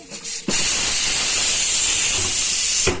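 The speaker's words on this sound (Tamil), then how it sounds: "பிரிஞ்சி இலை, அப்புறம் முந்திரி இதெல்லாம் போட்டு தாளிக்கணும்" Bay leaf, cashews, cloves and whole spices drop into hot oil in a pan for tempering, bursting into a loud, steady sizzling hiss after a brief quiet moment and continuing unbroken.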